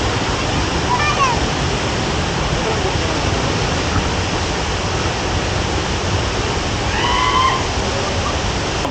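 The large Hogenakkal waterfall pours down in a steady, loud roar of crashing water nearby, with faint voices and brief high calls rising over it now and then.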